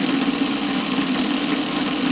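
A magnetic drive motor spins a plasma ball up toward top speed, giving a steady, loud mid-pitched whirring hum with a fast regular vibration throughout.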